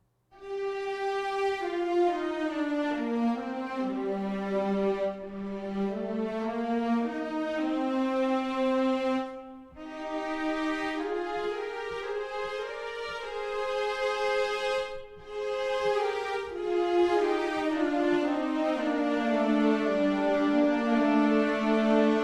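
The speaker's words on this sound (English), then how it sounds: "We'll check out the violas and celli." Violas and cellos from the Strezov Sampling Afflatus strings library playing a slow, sustained legato passage alone, rich bowed harmonies gliding between notes with brief pauses between phrases.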